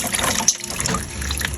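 Raw onions rinsed in cold water for melon kimchi give a brief splashing trickle, close and fairly loud, with a short sloshing gush near the end.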